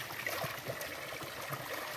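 Steady, close trickling and gurgling of a village stream in rural Kenya, where people bathe, flowing continuously with soft splashes and no voices.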